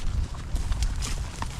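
Horse hooves clop on a trail during a spring ranch horse drive, several steady, uneven thuds close by with outdoor noise around them.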